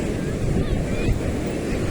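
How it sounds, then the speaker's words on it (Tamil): Strong wind buffets the microphone while surf rolls in on a beach at Nagapattinam, a dense, continuous rushing roar with gusty swells, close and loud, with no voices. "கடற்கரையில் நல்லா குழுக்குழுன்னு காற்றடிக்குது பாருங்க."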